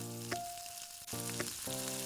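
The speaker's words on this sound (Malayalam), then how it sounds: "നമുക്ക് വറുത്ത് കോരിയെടുക്കാം" Elephant foot yam chips crackle in hot oil with a soft, continuous sizzle, overlaid by a tonal melody that pauses briefly midway.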